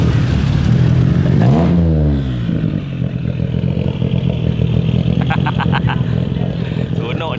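A Ford Mustang, apparently a V6, revs loudly as it approaches during a street race, its engine roar rising and sweeping in pitch, with rattling clatter from a nearby car and people talking over it.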